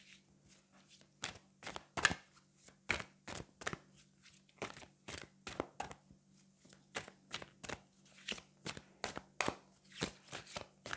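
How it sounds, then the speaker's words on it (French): Wisdom of the House of Night oracle cards being shuffled and handled at close range, a quiet run of quick papery flicks and taps in uneven bursts with no talking. "on va prendre une carte du Wisdom of the House of Night."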